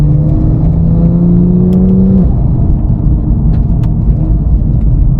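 A BMW M2 GTS with new software blips its engine during gearbox downshifts, a loud close rising rev that drops sharply after about two seconds, then a low rumbling idle.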